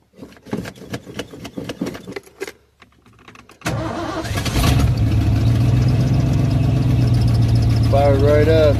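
An old car with no choke cranks after a stretch of talk, then catches and fires into a loud, close, steady idle with a slight rev.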